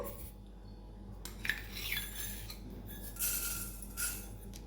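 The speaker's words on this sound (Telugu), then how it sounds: "ఇప్పుడు స్టవ్ ఆన్ చేసుకొని బాణలు పెట్టుకొని దాంట్లో 2 స్పూన్ల మెంతులు" Small hard fenugreek seeds spooned into an iron kadai on the stove, with light clinks and a scatter of rattling taps around the middle and end, fairly quiet and alone.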